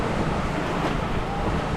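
A generator runs aboard a fishing boat at night, making a steady, loud, unbroken mechanical drone that fills the short stretch.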